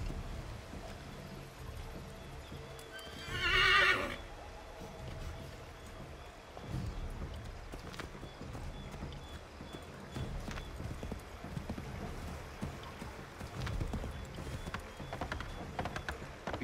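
Horse hooves clip-clopping at a steady gait with a short whinny early on, ridden in the Assassin's Creed 3 Remastered video game on PC, amid soft ambient game background noise.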